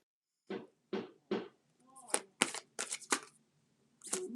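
Several quick riffling bursts of shuffled oracle or tarot cards, crisp and close, coming in short separate clusters with brief pauses between them.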